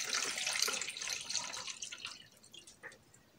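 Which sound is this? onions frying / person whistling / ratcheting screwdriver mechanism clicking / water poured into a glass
water poured into a glass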